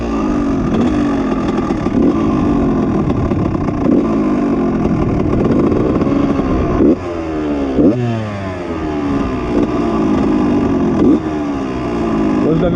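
Honda CR 125 two-stroke motocross bike from 1999 with a Pro Circuit exhaust, V-Force 3 reed valve and Bud cartridge, running close by with repeated revs rising and falling in pitch, one sharp drop and climb midway.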